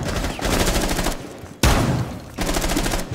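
Gunfire in the Rainbow Six: Siege video game, delivered in rapid automatic bursts with one heavy blast in the middle, loud and dense, with no talking over it.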